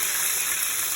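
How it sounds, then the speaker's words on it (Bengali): Water pours steadily into a cooking pan of frying chicken, a brief, close, continuous gushing rush. "পানি দিচ্ছি"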